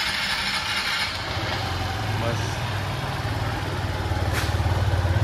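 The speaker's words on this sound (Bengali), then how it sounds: "সো অ্যাট আইডেল এটা হচ্ছে গাড়িটার সাউন্ড।" An Aprilia Storm 125 cc motorcycle idles nearby with a steady, low, pulsing engine throb and fairly even loudness, with faint background noise.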